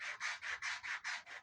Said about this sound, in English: now I'm just kind of gradually moving it around as I continue sanding it like this